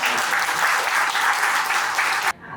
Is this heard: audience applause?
yes